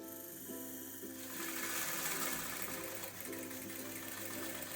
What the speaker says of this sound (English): that whirring is the main motor of the machine setting up